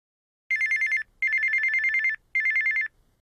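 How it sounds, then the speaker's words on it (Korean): A mobile phone rings in three clear electronic bursts separated by short silences, close and loud with no other sound around it, early in the morning. "아침부터 휴대전화가 울리네요."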